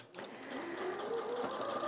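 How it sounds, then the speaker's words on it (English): Janome Atelier 9 sewing machine stitching through layered fabric, a steady continuous mechanical whir with rapid rhythmic needle pulses that rises slightly as it gets going and runs close and clear. "And then we're going to sew at a 45 degree angle."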